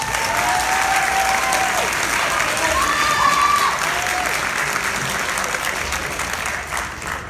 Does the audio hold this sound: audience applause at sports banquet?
yes